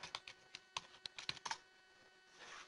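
Keystrokes on a computer keyboard while an administrative password is typed in during a Windows Server 2012 R2 setup, about a dozen quick irregular clicks in a short burst, close and fairly quiet, with no talking.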